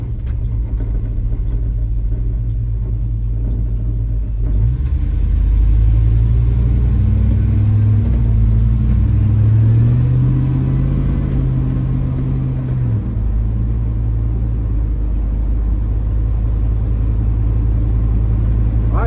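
LS-swapped Ford F150 pickup on its first drive, a loud continuous low engine rumble that rises and falls as the automatic transmission shifts through gears, steady from start to finish.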